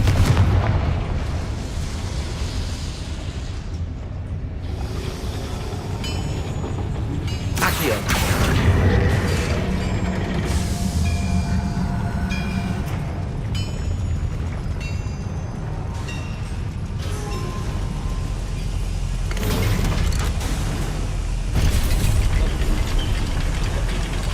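An explosion spell is cast in the video game Hogwarts Legacy: heavy booming blasts and rumbling crashes over a dense, continuous game soundscape of mechanical clatter, with no speech.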